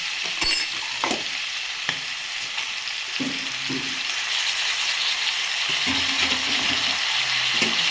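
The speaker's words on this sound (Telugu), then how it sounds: "ఇప్పుడైతే టమాటాలు వేసేస్తాం." Tomatoes sizzle and fry in a pan for a small sea crab curry, a steady crackling hiss throughout with a few scraping stirs near the start.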